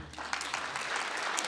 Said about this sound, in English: Let's clap because I can't see you.